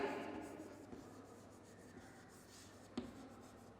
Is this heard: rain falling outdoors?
no